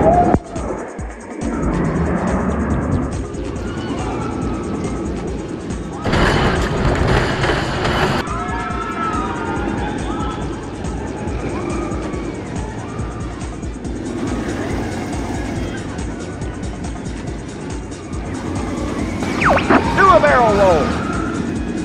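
A night ride on the VelociCoaster roller coaster: loud rushing wind and rumbling track noise roar throughout, with sudden surges and bursts of clatter, while riders shout and talk over the din.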